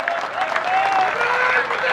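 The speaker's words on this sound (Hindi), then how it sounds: "एक बार जोरदार तालियां दोस्तों" An audience at a mushaira applauds, a brief dense burst of clapping from the crowd with a voice faintly heard under it.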